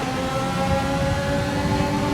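Formula 1 cars from the F1 2020 racing game, battling at the Vietnam Grand Prix, scream at high revs in a steady, loud whine, several engines layered together without talk.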